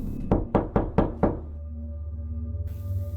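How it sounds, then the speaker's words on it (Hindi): Five sharp knocks land on a hotel room door in a quick, even sequence, close and loud, used as a horror sound effect, followed by a low, ominous hum. "कुछ देर बाद हमारे रूम का दरवाज़ा नॉक हुआ।"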